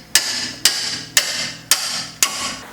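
A tool strikes a wrench seated on a 14 mm bolt of a 2012 Mazda3 rear wheel bearing hub, five sharp metallic taps evenly spaced about half a second apart, loud and close with short ringing decays.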